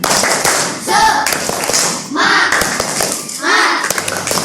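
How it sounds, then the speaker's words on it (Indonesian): A classroom of students claps a rhythmic cheer clap together, with loud bursts of hand claps in short groups that repeat across the clip, and voices shouting along between them. "Tepuk semangat dulu yuk sama-sama."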